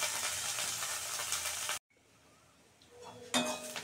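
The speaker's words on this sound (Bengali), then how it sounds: "পেঁয়াজ লঙ্কা আর কারি পাতা ভাজা হয়ে গেছে" Onion, chili and curry leaves fry in a pan with a soft, steady sizzle, which stops abruptly, followed by faint clinks of a utensil against cookware.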